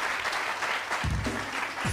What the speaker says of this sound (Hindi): बहुत सारी तालियाँ इनके लिए, बहुत सारी तालियाँ।